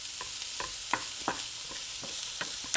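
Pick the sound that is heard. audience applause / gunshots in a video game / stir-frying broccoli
stir-frying broccoli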